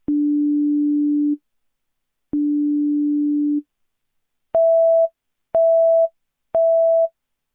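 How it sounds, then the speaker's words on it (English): Alignment tone from an iDirect VSAT satellite router during dish pointing: two long low steady beeps followed by three shorter, higher-pitched beeps, evenly spaced, clean and electronic with nothing else heard. "You can also hear this progression audibly in broken sound bites that increase in pitch and volume as your alignment becomes more accurate."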